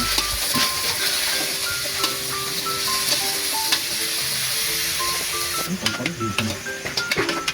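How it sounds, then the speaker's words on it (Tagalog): Onion, tomato, ginger and moringa leaves sizzle steadily in a pan while being stirred, with a continuous close frying hiss broken by repeated scraping strokes that grow busier toward the end. "haluin po natin para mag-isa po lahat"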